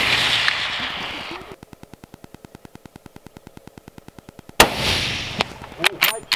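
A single sharp, loud rifle shot rings out during a water buffalo hunt in Australia, following a stretch of faint, regular mechanical ticking, then voices and rustling right after.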